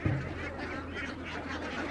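Haor ducks quack quietly in a crowd at a village poultry market in Bangladesh, a low, steady chorus of calls with one slightly louder quack at the start.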